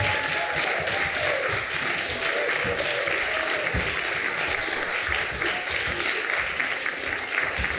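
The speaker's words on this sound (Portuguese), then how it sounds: "dar assim o maior dos aplausos ao João Reis!" A theatre audience at a family storytelling show gives sustained, steady applause, a dense wash of many hands clapping evenly throughout.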